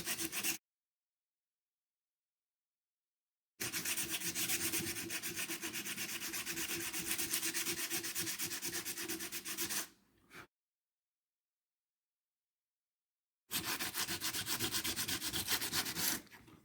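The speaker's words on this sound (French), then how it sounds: "Tout le monde sait poncer, on ponce, ça prend du temps." A piece of slate is sanded by hand to round its edges. Two long stretches of steady, close, gritty rubbing are split by a silent pause, with a brief scrape before the gap.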